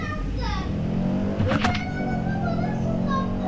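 Car engine in a racing video game humming and revving, with a quick high rising rev burst midway, while young voices talk over it.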